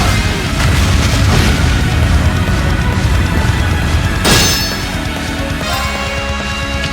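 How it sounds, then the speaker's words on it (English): A Destruction cannon blast from the video game Trails of Cold Steel lands as a single heavy boom late in the clip, rising over loud, continuous game music and effects. "Destruction cannon!"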